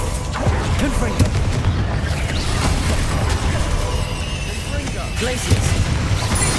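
Confringo blasting spells in the Hogwarts Legacy video game, repeated booming bursts and crackling impacts in quick succession amid chaotic combat noise, with voices shouting over them.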